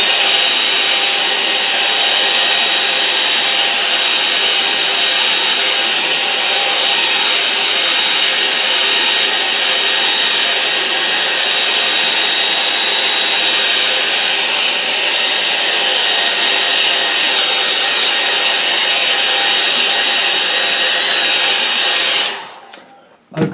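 A hair dryer blows on a watercolour painting of a lakeside scene, a loud, steady close whooshing whine that runs unbroken for over twenty seconds before switching off abruptly.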